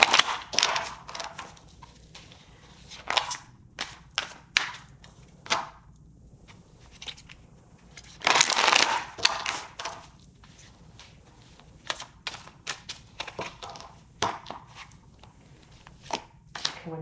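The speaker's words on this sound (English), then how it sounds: "let me just shuffle this deck." A tarot card deck being shuffled makes crisp, papery riffling bursts in quick, irregular clusters, with one longer rustling flurry midway, close and fairly quiet against a still background.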